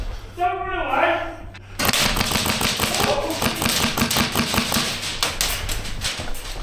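Airsoft guns fire in rapid bursts during an indoor CQB game, a dense clatter of sharp taps close by, with players shouting over the shots.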